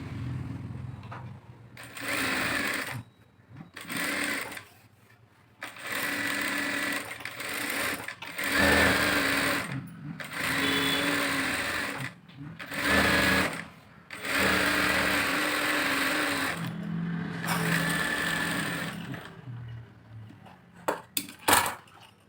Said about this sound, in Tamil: அப்புறம் திருப்பி தையல் போடுறோம்.